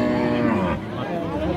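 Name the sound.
Friesian cow or calf mooing at cattle market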